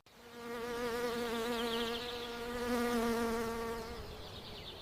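Bees buzzing steadily around blooming kiwi flowers, a close, continuous drone with a strong harmonic hum that swells slightly midway and holds for several seconds.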